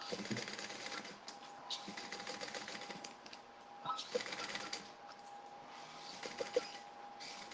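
A sewing machine back stitches down a tote bag seam in short whirring bursts, fairly faint, with a voice talking over it.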